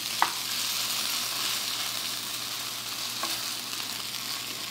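Mung bean pancake batter fries in plenty of medium-hot oil in a pan, giving a steady, dense sizzle that runs throughout, with a couple of faint clicks and no talking.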